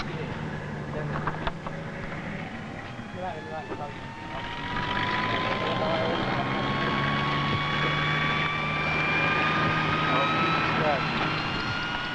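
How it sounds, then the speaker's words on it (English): A helicopter's engine drones steadily and grows louder over the course of the clip, with a voice speaking over it. "the only way to reach those in need is by helicopter"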